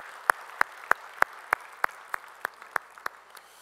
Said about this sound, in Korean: 우리 찬양을 받으실 주님께 영광의 박수 올리겠습니다